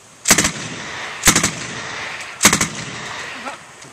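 A WWII-era submachine gun chambered in .45 ACP, cycling at roughly 700 to 800 rounds per minute, fires three short, loud bursts of rapid shots spaced about a second apart, each ringing out briefly afterward.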